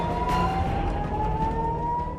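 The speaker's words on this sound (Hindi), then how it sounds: "उधर सीमा के पास बसे इजरायली गांवों में सायरन गूंज उठे" A rocket warning siren in an Israeli village near the Lebanese border wails as a single sustained tone that slowly rises in pitch over a dense rumble of background noise, with no talking.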